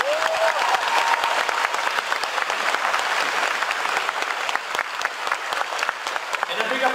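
A concert audience in Warsaw applauds as a conductor is welcomed at a show. Loud, dense clapping comes from a large crowd, with a brief voice or tone near the start and sharper scattered claps as it tapers.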